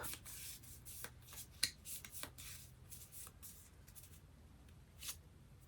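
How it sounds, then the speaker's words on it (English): A deck of cards riffled and shuffled in a few quick bursts, soft and close, with light rubbing between; no one speaks. "I'll go ahead and shuffle these up"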